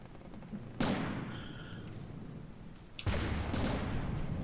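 Ship guns firing in the naval game From the Depths, built in Minecraft style while attacking a Lusitania-style liner: two loud, close booming blasts spaced a couple of seconds apart, each followed by a sustained rumbling roar.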